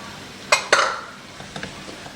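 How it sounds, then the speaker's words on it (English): Green beans and green onions tossed into a pan to sauté for lumpia filling: two quick clattering drops with a brief hiss, then a few faint scrapes and light sizzle. "So we add the green beans. And then the green onions."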